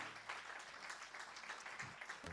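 A church congregation claps together in a steady wash of applause acclaiming Jesus during a worship service, faint and distant, with no voices standing out.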